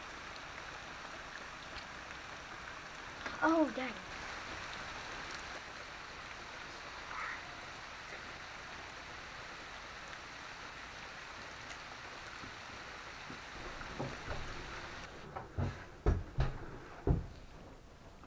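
Steady light rain falls at Christmas near an off-grid cabin, a soft even patter throughout, with a brief voice and a few louder knocks and thumps near the end.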